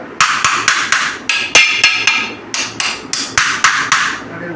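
Hyderabadi biryani pot tapped on its top: a quick run of about fifteen sharp, close metallic knocks in an uneven rhythm, with no talk.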